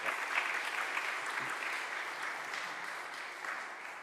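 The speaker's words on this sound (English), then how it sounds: "Let's give a round of applause for our amazing bodies." A church congregation at a Unitarian Universalist Sunday service in Youngstown claps in an even, dense round of applause, moderately close and without talk.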